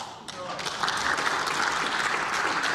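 Applause rises from the lawmakers' seats in the National Assembly chamber during a floor speech, a dense, steady clapping that swells after a moment and holds loud to the end.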